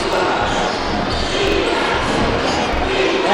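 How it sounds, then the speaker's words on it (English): Home crowd at a Christian Life high school basketball game against Madison Prep, chanting for defense in a loud, rhythmic roar in a gym, with sneaker squeaks and a commentator talking over it. "you can hear the Christian Life crowd here calling for defense"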